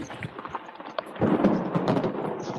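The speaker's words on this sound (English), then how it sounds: "Ooh, I hear thunder." Thunder rumbles from a storm over small-boat fishing water. It builds into a broad, loud roll partway through and mixes with a rain-like hiss, with no talk.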